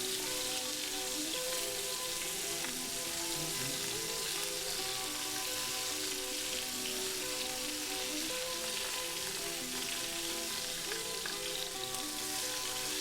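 Shrimp toast frying in a pan with chile de arbol, a steady close sizzle of hot oil with fine crackling that holds evenly throughout, no voices.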